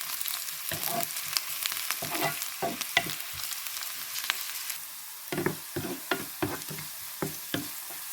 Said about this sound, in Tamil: இன்னும் கொஞ்சம் நேரம் வதங்க விடணும்